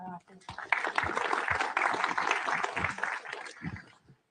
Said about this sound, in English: give a round of applause for Miss Donna.